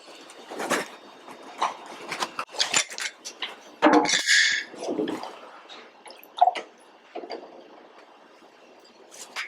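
A massaged cocktail mixture cut back with water being strained: close, intermittent trickles of liquid mixed with light metallic clinks of barware, with no talking.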